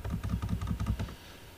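Quick run of keystrokes on a computer keyboard, about ten crisp, evenly spaced taps close by, then quiet.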